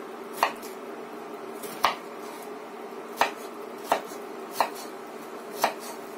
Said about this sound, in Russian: Тоже мелко нарезаем.